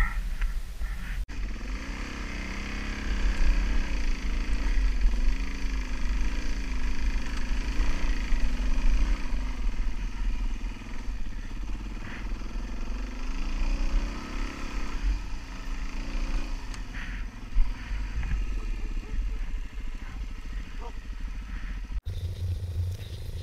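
A dirt bike engine working up a hill climb, a loud, close, continuous revving drone that rises and falls with throttle over about twenty seconds, with some clattering, before cutting off abruptly near the end.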